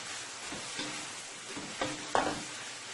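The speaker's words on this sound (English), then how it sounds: "So my seasoning is frying up here nicely for the provision." Seasoning sizzles softly in a pan with occasional stirring scrapes and clinks, fairly quiet and steady, no talking.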